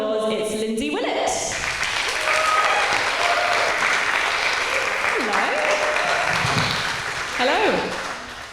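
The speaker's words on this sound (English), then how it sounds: "Please give her a big round of applause." A room full of people bursts into sustained, dense applause welcoming a guest at a fireside chat event, steady and loud for several seconds, with voices and cheers rising over it before it tapers off.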